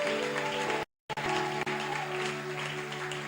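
A worship congregation applauds and cheers for the Lord with continuous, full clapping over a held musical drone, briefly cut off to silence before resuming.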